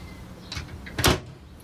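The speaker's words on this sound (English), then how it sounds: "It's a foldable door that opens directly into the saloon. And it just slides open" A large foldable door on a Sealine C390 motor boat slides open into the saloon, a brief rolling swish ending in a louder, sharp clack, close by.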